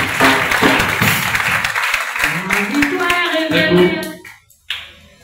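A church congregation applauding and cheering during a testimony service, loud and dense at first under voices and music, then dropping away abruptly near the end before a brief burst.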